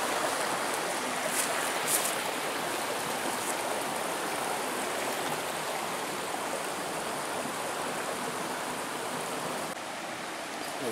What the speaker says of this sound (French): au bord de ces petits ruisseaux, c'est hyper apaisant